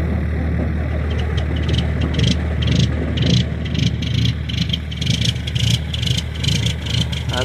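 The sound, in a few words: truck engine starting and idling in cold weather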